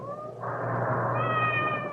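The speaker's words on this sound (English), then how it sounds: "Did you hear that? Hear what? The cat." A cat's drawn-out meow from a 1970s radio drama sound effect, a single plaintive wavering call rising in pitch, heard alone and fairly close.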